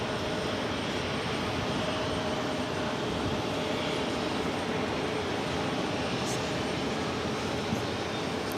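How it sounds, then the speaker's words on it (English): An American Airlines jet departs New York JFK for London Heathrow, a steady, fairly faint engine rumble and roar that holds at an even level throughout, with no voices. "American Flight 100 heading off to London Heathrow."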